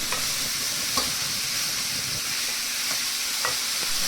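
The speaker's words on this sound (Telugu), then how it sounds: "ఇప్పుడు దీంట్లోకి కట్ చేసి పెట్టుకున్న దొండకాయ ముక్కల్ని వేసుకోవాలండి." Chopped ivy gourd pieces fry in oil in a pan while being stirred, a steady close sizzle with occasional scraping clinks of a spoon, and no talking.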